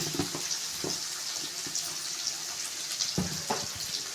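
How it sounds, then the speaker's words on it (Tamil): Garlic sautéing in oil for a vendhayam kulambu: a soft, continuous sizzling hiss with scattered light taps and scrapes, fairly quiet and close, with no voices. "பூண்டும் அந்த எண்ணெயிலே நல்லா வதக்கிக்கோங்க."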